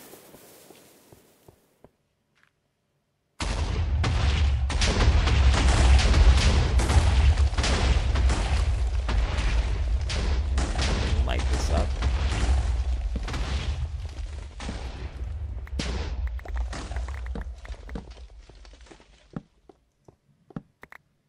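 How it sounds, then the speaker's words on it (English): A long, dense barrage of booming Minecraft TNT explosions rolls continuously for about fifteen seconds, loud and overlapping, then tapers off into a few scattered pops. "Nice, awesome explosions."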